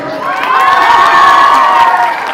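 A live audience at Manju Warrier's public event erupts in sustained cheering and applause, a dense, loud crowd roar that swells and holds steady throughout.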